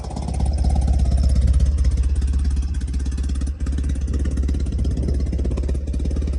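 A BMW R80G/S Paris Dakar motorcycle with its factory-original boxer twin engine idles steadily and close by, a deep even thrum with a light mechanical clatter and one brief dip midway.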